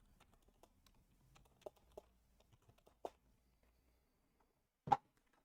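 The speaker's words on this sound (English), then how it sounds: "sadly I have to type it" Typing on a computer keyboard, sparse irregular clicks with a few louder key presses, close and quiet with no talking.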